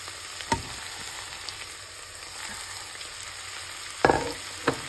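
Tomatoes, MTR mix and sambar powder frying in a pan for palav, with a soft, steady sizzle and a few sharp clatters of a stirring utensil, the loudest near the end.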